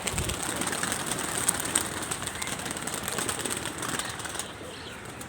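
A flock of hobby-flown pigeons in Punjab coos amid a dense flutter of wings, a busy outdoor flock with steady broadband noise throughout.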